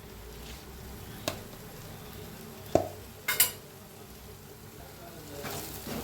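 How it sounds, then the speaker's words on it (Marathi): Spiced egg masala stirred and roasted in a pan with homemade garam masala, turmeric and red chilli, giving a soft steady sizzle with a few sharp clinks of a spoon against the pan. "चांगलं मिक्स करून भाजून घेऊया."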